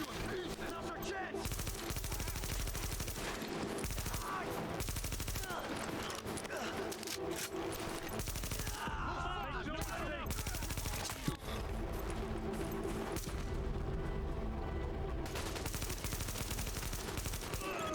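Dense, continuous gunfire from The Division, with rapid automatic bursts and heavy shots layered under game music and effects for the whole stretch, loud and close, with brief in-game voice callouts.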